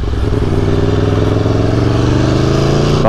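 A 2018 Aprilia Tuono revs hard through its exhaust pipe, a loud, close, rough engine drone with a rapid pulsing beat, held steady for about three seconds.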